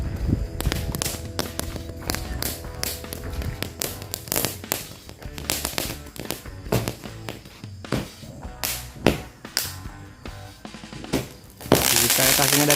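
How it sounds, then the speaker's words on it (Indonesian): Cobra cake firecracker going off at night during Ramadan, a rapid series of sharp cracks and whip-like bangs in irregular bursts, loud and close, ending in a dense crackling roar. "Selanjutnya kita sumet mercon cake cobra"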